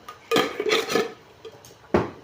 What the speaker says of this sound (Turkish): Ve ve ve ve içine bir kaşık şeker atıyorum.